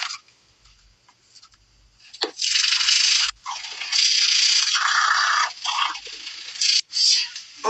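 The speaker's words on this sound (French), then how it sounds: "il faut se brosser les dents avec le dentifrice" Teeth being brushed with a toothbrush and Hismile toothpaste: after a quiet start, close, bristly scrubbing strokes come in long bursts with brief pauses between them, with no voices.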